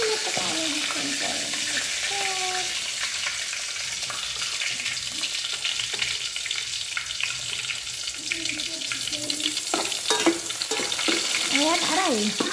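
Sardines with sweet potato leaves frying in a pan, with a steady loud sizzle and crackle throughout, plus some stirring and scraping sounds.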